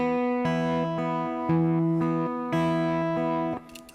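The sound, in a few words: guitar fingerpicking pattern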